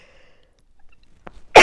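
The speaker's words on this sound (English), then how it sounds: "I'm going to sneeze" A woman standing outdoors where pollen is thick sneezes once, sharply and close, at the end of a short quiet stretch, after a brief intake of breath.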